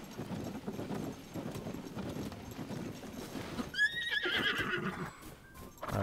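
A horse whinnies and its hooves clop in Zelda: Tears of the Kingdom, with low game ambience early on, then a bright, loud neigh near the end over rhythmic hoofbeats.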